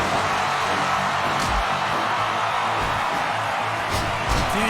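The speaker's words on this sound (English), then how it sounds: "The applause of the crowd." A video game crowd cheers and applauds steadily at a wrestling match in Fire Pro Wrestling World, a dense, continuous roar of noise with faint whoops rising over it and no clear break.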